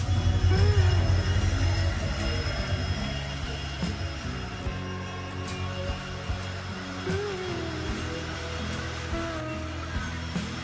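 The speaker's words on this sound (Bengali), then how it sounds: "আর এটা আছে আগরতলা শিলচর এক্সপ্রেস।" The Agartala-Silchar Express at Kumarghat railway station, a loud continuous rumble of rolling carriages with metallic clanks and occasional wheel squeals, close by throughout.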